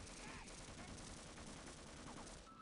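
Sustained gunfire in the video game Half-Life, a steady, dense crackle of shots that carries on without a break, faint and somewhat distant, with a few small voice-like sounds in the mix.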